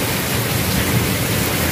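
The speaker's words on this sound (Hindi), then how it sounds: "बहर भी काफ़ी ज़्यादा मतलब के बारिश हो रही है" Steady rain pouring down outdoors under heavy clouds during a thunderstorm, a continuous dense hiss with a low rumble beneath, fairly loud and unbroken, with no talking.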